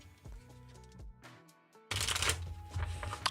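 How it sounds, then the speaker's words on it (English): Tarot cards being shuffled, a quick riffle of papery flutters followed by a louder, denser burst of card noise, close by with no talking. "It will get shuffled again before I use it."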